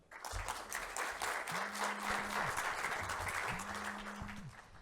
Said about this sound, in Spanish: le pido la recibamos con un caluroso aplauso